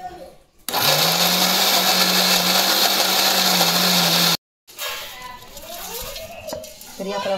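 Kitchen mixer grinder whirring at full speed as it grinds prasad ingredients, a loud steady motor drone lasting several seconds before cutting off abruptly, followed by quieter clatter and a voice talking.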